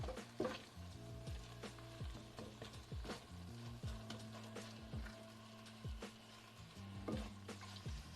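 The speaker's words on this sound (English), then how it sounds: "we're gonna add in some ground beef and break it up and mix it." Ground beef fries in a pan while being broken up and stirred, giving a soft, steady sizzle punctuated by repeated scraping knocks of the utensil, fairly quiet and with no talking.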